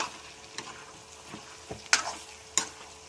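Spoon stirring vegetables with turmeric, peas, onion, cauliflower and tomato in a pan, several sharp scraping knocks over a faint low sizzle, fairly quiet and close.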